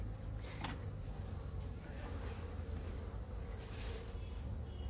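Bees swarm around a beehive, making a dense, continuous buzz that stays steady and close throughout, with a few brief rustles on top.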